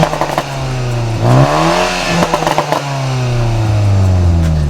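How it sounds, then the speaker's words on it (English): A 2022 Toyota Supra GR with the 2.0-litre four-cylinder revs and shifts through its exhaust, rising and falling engine tones broken by sharp pops and crackles, loud and close. "the exhaust on this 4-cylinder probably won't win any awards, it's not a bad little crackle there"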